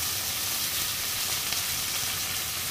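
Onions and tomatoes sauté in a pan as a base for Tamil fish curry. A dense, loud, unbroken sizzle fills the moment, close by and with no speech.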